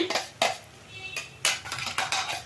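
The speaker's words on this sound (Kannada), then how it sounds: "ಇದನ್ನು ಅಷ್ಟೇ ಚೆಂದಾಗಿ ಹಸಿ ಸ್ಮೆಲ್ ಹೋಗೋವರೆಗೂ ಫ್ರೈ ಮಾಡ್ಕೋಬೇಕು" Tomato frying with ginger-garlic paste in a pan while soya gojju is made, heard as repeated metallic scrapes and clinks of a spoon against the pan in irregular bursts, close and moderately loud.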